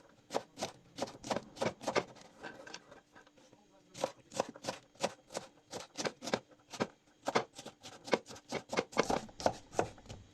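A knife chops green beans finely on a cutting board for a Black Sea fasulye diblesi, giving quick rhythmic bursts of sharp taps with brief pauses and no voices.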